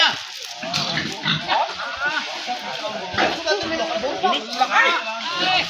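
Pigs grunting and squealing in a busy, noisy crowd, with people chattering and shouting over the animal sounds throughout.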